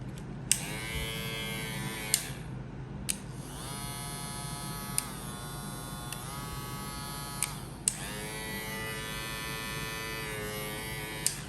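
A VGR V003 electric hair clipper buzzes steadily in short bursts, switching on and off several times, close by and fairly quiet.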